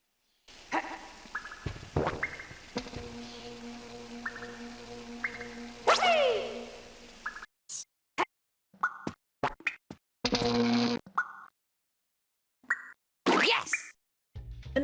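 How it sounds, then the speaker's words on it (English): Sound effects in the Glover video game when the crystal is returned: a string of short, springy plops, boings and blips with gaps of silence between them. Separate bursts, some stacked in quick pairs, near and moderately quiet. "Returning the crystal plays a completely wrong sound effect."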